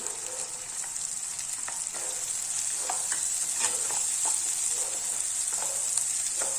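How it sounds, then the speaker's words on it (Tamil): Tomato and green chilli fry in a pan with a steady hiss, broken by intermittent scraping and tapping of a spatula stirring, close by and fairly quiet, with no talking. "தக்காளி பச்சை மிளகாய் ரெண்டையுமே சேர்த்துறேன்"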